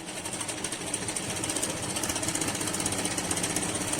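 A sewing machine stitching cloth in a straight seam, running steadily and close with a fast, even mechanical chatter throughout, no voices.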